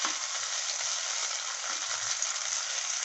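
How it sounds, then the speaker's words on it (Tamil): Small shallots and tomatoes sautéing in oil in a kadai for bitter gourd curry, a steady close hiss of frying with faint stirring beneath, continuous and even. "சின்ன வெங்காயத்தையும் தக்காளியும் கொஞ்சம் வதக்கிட்டு அப்புறமா மிக்சியில் போட்டு அரைச்சிடலாங்க."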